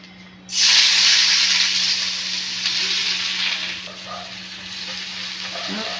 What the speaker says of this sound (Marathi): कांदा पहिले टाकून घेते तेल मस्त तापलेलं आहे